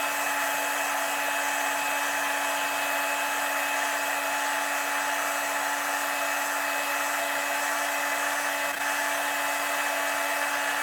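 A hot air gun heats the GPU of an 8800GTX graphics card for reflow, blowing with a steady, loud, unbroken whine and rushing hiss throughout.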